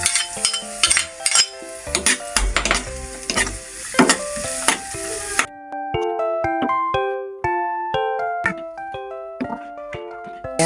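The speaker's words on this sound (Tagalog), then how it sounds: "so ipa-fry ko na muna itong sibuyas ay bawang" Onion and garlic fry in a pan for pork igado, a loud sizzle with scraping stirs and metal clinks against the pan for about five seconds, then plucked melodic music takes over alone.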